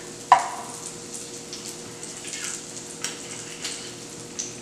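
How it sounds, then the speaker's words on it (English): Garlic sizzles softly in a pan on a home stove, with a clank of the utensil at the start. Stirring brings light scraping and a steady quiet frying hiss. "Have to stir the garlic around."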